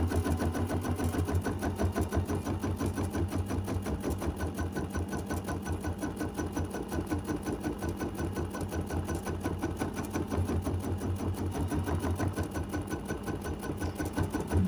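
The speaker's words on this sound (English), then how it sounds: "Never sew very fast. I don't have my machine on high speed at all" An embroidery sewing machine stitching a mini quilt hums and chatters steadily at moderate speed for the whole stretch, with an even, fast stitch rhythm close up and no talking.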